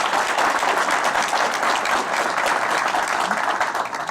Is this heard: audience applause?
yes